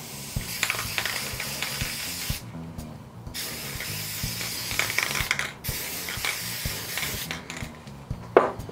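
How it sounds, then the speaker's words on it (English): Sustained hissing of lacquer from a spray can onto woodwork joints in several long passes separated by brief gaps, with faint rattling and clicking underneath. "with a little bit of spray lacquer"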